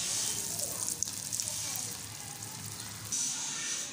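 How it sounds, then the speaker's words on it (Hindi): Potato and rice-flour snacks frying in hot oil, a soft, continuous sizzle and bubbling heard close up, fairly faint, with a brief clink partway through and a louder hiss near the end. "ऑयल हमारा गर्म है, हम इस पर फ्राई करेंगे इसको।"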